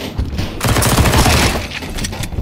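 A burst of rapid gunfire in the Danger Zone battle-royale video game, loud and close, rattling steadily for about two seconds.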